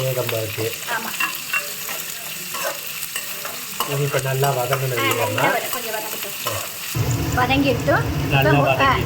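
Dried red chillies fry with salt in a pan, giving a steady oily sizzle with stirring scrapes and clatter, interrupted by a louder burst of frying near the end, while someone talks over it.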